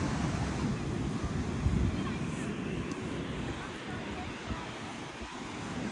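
Ocean surf rolls and washes steadily along a beach, a broad continuous roar of waves with wind buffeting the microphone throughout, heard alone without talk.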